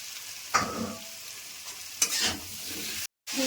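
Boiled giant taro (mankochu) tipped into a pan with salt and turmeric for a rohu fish curry, giving a few bursts of sizzling and stirring scrapes, close and moderately loud, with a short silent gap near the end.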